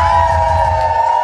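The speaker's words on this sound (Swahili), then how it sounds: "Makofi na vigelegele." A loud, unbroken roar of applause and high, wavering ululation from a crowd at a send-off party in Mbeya, Tanzania, with cheers and whoops mixed in, sustained throughout.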